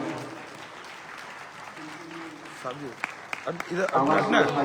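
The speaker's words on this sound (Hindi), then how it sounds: "इतना तो इनका हक है कि अच्छी ताली से इनका स्वागत किया जाए" Applause rises from a gathered audience at a religious festival night session in India, welcoming volunteers, with scattered clapping that swells and grows louder toward the end while a voice speaks over the start.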